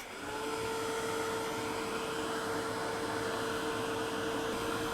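A handheld dryer blows steadily and close, drying ink on a vintage altered craft box. It gives a constant whirring hiss with a faint motor whine, starting just after the opening and running on evenly without pause.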